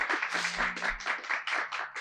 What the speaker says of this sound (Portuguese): Vamos lá, aplauda aí, galera, foi muito bom.